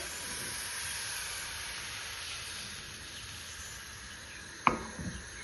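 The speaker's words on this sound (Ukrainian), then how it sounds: "І смажимо з обох сторін до золотистого кольору." Thin pancake batter frying in an oiled hot skillet gives a steady, quiet hiss throughout, with a brief sharper clatter near the end.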